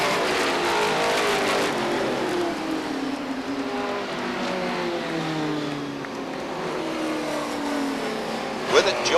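A late model race car roars around Beech Ridge Motor Speedway, its engine note sweeping and shifting as it passes, loud and steady under crowd and trackside noise, with a commentator's voice faintly mixed in.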